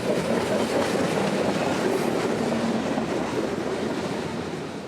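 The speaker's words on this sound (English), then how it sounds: "this loaded coal train is bound for Plant Bowen" A loaded coal train rolls past on the W&A line, a loud, continuous rumble with rail clatter that fades slightly toward the end.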